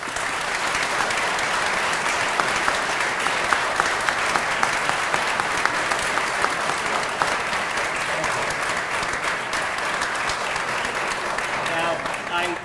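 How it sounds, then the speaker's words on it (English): Long, steady applause fills a ceremony hall at the opening of the Watergate Gallery exhibit, a dense crowd clapping at an even, loud level for the full stretch with no pause. "I just want you to give them a long, big round of applause for their Watergate exhibit."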